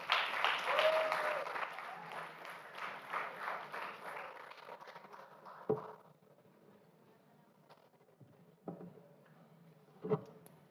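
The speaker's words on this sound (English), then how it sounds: "I think that clap was meant for me." Audience applause at an education event in Uganda, loud and dense at first, then fading over several seconds into sparse, scattered claps with long quiet gaps between them.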